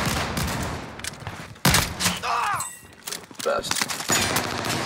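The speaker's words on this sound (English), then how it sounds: "I'm taking fire!" Incoming gunfire in the video game Call of Duty on Rebirth Island; loud rattling bursts and sharp shots mixed with whizzing and ricochet-like tones, with a voice briefly speaking among the chaotic, near-constant fire.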